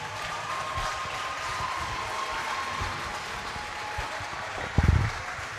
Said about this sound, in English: Round of applause for Shelton Bonnie and, of course, Giovanni Hodge